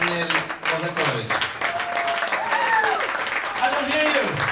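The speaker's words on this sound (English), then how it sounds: "Give us a good applause, especially to Maestro Daniel Lozakovich." Audience applause greeting violinist Daniel Lozakovich at a salon event, continuous clapping running under an announcer's loud voice throughout.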